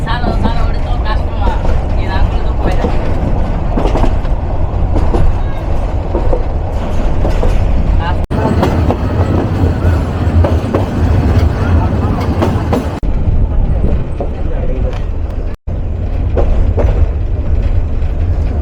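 A commuter train runs along the tracks near Dewanganj in Jamalpur, a steady, loud rolling rumble with rattling wagon noise throughout, close by and continuous, with a brief dropout near the end.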